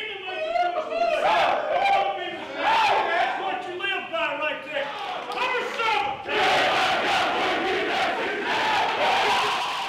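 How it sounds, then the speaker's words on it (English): Large football stadium crowd at a Tennessee home game swelling in a rising roar as a marching band enters, with loud sustained cheering and shouts building toward a dense wall of noise by the end. "As you can hear the crowd starting to pick it up crescendo-wise as the Pride of the Southland band now marches into the famous T."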